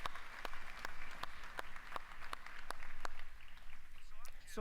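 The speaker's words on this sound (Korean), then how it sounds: "스스로 칭찬하는 의미에서 박수 한번 칠까요?" At the Unite 2023 keynote hall, faint, evenly spaced claps repeat in a steady rhythm over a low room murmur, sounding somewhat distant.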